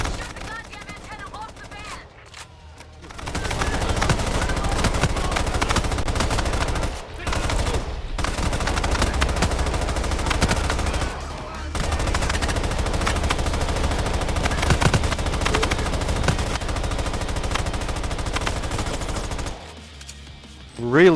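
LMG light machine gun in Payday 3 on Overkill difficulty, long sustained bursts of rapid automatic fire with a few short pauses, loud and close, with a voice talking over the shooting.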